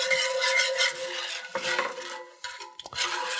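A utensil stirs hot bacon dressing in a pan, scraping and clinking against the metal in short irregular strokes, close up with a faint sizzle beneath and no voices.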